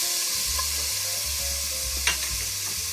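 Onion sautéing in hot olive oil in a pot for ground beef soup gives a steady, close sizzle throughout, with a brief sharper crackle near the middle.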